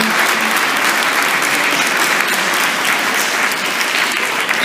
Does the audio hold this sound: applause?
yes